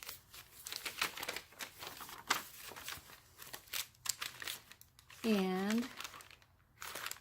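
A small glassine bag and sheets of pink paper from a junk journal kit crinkle and rustle in repeated close bursts, with someone talking softly in between.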